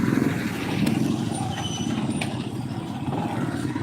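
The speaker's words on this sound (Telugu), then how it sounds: "వర్షంలో ట్రాఫిక్" Heavy rain pours over city traffic in a dense, steady roar, with trucks and buses rumbling nearby and a brief hiss like an air brake partway through; no talking.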